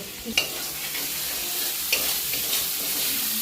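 Prawn masala with mustard sizzles loudly in a pan as a little water is poured in, giving a steady hiss with a couple of sharp splutters and stirring sounds, no voices.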